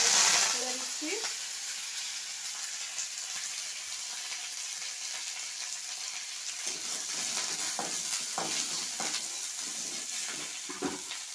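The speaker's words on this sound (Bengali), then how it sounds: "কড়াইতে আমি প্রথমে একটু তেল দিয়ে দিচ্ছি। তেল দিয়ে কারি পাতাটা ছেড়ে দিচ্ছি।" Curry leaves dropped into hot oil in a wok crackle and sizzle with a sharp burst at first, settling into a steady frying hiss with intermittent spatters and stirring scrapes, close and moderately loud.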